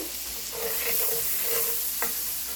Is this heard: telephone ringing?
no